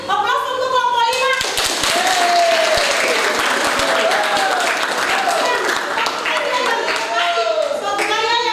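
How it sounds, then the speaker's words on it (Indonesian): Classroom applause for a student group in a vocational high school maths lesson: steady, dense clapping from many hands throughout, with a teacher's voice and children's chatter layered over it. "Aplaus untuk kelompok 5."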